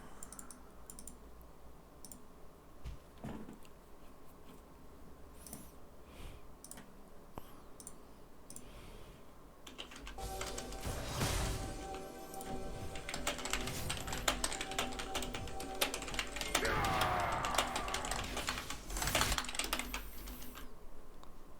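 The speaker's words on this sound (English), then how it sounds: "after me typing some messages, let's return to the game" Rapid typing on a computer keyboard during a League of Edmund game session, bursts of clicking keys that grow busier and louder in the second half, heard alone without talk.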